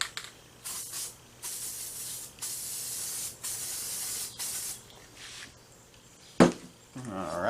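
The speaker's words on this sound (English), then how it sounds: "I'm going to spray this." Several short bursts of spray adhesive hissing from an aerosol can in succession with brief pauses between, followed by a sharp knock and some handling noise.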